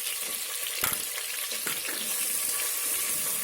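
Ginger garlic paste fries in a pan with mint for chicken fry, giving a steady, close sizzling hiss broken by a couple of brief stirring scrapes.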